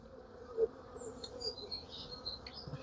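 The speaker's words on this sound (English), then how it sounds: "But she's a young bee because she's runny." A young honey bee from a swarm settled in empty equipment buzzes faintly at close range, with soft intermittent whines over a quiet outdoor background.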